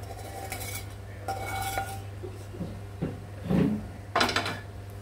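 Pasta being mixed with chicken cocktail sausages in a pan, giving scattered scraping and clinking of a utensil against metal with soft stirring rubs, a few louder bursts near the end, over a steady low hum.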